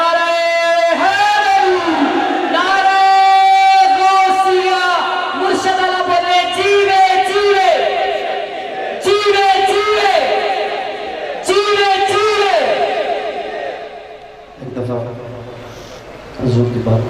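At a religious gathering for an Urs celebration, a large crowd chants Nara-e-Takbeer and Nara-e-Risalat slogans in loud unison answers to a leader's calls, the shouted responses rising and falling in waves.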